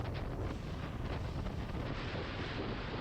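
Steady, heavy wind roars across the microphone, a dense continuous rush with no pauses, suggesting strong gusts out on open water.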